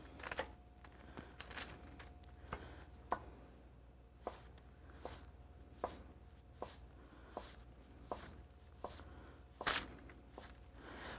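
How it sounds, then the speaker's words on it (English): Knife slicing beets into julienne on a cutting board, a quiet steady series of crisp chops at a regular rhythm, close and alone without talk. "And we're gonna come in here and cut them in julienne"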